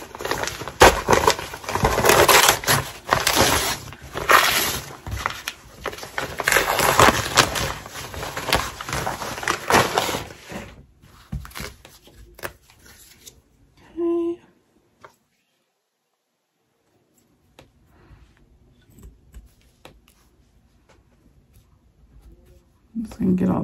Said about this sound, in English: I'm just going to go ahead and flip it over and just tear all this off.